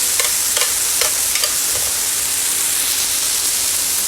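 Oil spatters and sizzles steadily in a hot pan during stir-frying with oyster sauce, with a few sharper pops and scrapes over a constant close hiss.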